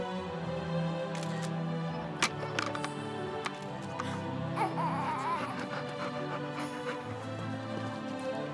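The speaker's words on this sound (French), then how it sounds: "Laisse-moi prendre une photo." A camera snapping photos of a Labrador, several sharp shutter clicks scattered over a background of faint whimpering and ambient noise, with no talk.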